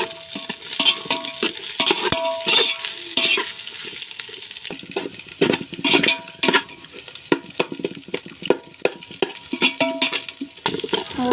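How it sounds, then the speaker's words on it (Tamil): Cabbage, beans and carrot stirred and fried in a pan for fried rice, with steady scraping and clinking of a spoon against the pan over a soft sizzle, in irregular bursts throughout. "கோஸ் நல்லா வேகிற அளவுக்கு நல்லா கிளறி விட்டுட்டே இருங்க"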